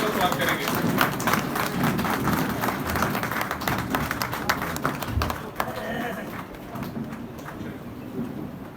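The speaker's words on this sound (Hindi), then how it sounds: "तालियां बजा के खड़े होकर स्वागत करेंगे" Audience at a ceremony standing to welcome the Governor of Sikkim with steady, dense clapping, sharp claps close by over a busy crowd murmur, with people talking and calling out underneath.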